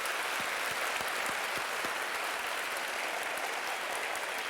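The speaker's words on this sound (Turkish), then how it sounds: "Bir büyük alkış onlara gönderelim." Studio audience applause on a Turkish TV talk show, a steady, evenly sustained round of clapping with no talk over it, heard at moderate distance.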